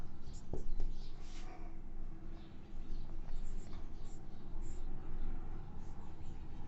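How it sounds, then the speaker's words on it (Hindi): Pen writing by hand during a chemistry lesson, faint scratchy strokes over a steady background hiss, with little else audible. "यहां लिखता हूं,"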